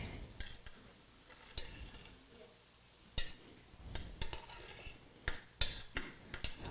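Chopped onions being stirred into a vegetable and tofu stir fry mixture, a spoon scraping and clinking against the bowl or pan in irregular bursts, close and moderately loud with a faint sizzle underneath.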